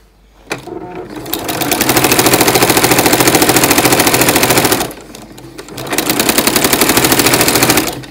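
A sewing machine stitches quilting lines on a fabric notebook cover, running in two fast, rapid-fire bursts with a brief pause between, loud and close.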